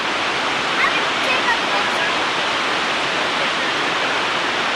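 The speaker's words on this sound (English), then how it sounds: "We are now at the brink of the lower falls." Lower falls roar from the brink in a steady, dense hiss of falling water, loud and continuous with no pauses.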